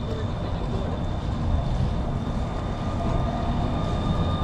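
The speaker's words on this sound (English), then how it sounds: "There's a tram. What tram's that? It's the Wimbledon tram." A Wimbledon tram rumbles past nearby in snowy weather with a steady low drone and a faint high whine, continuous throughout.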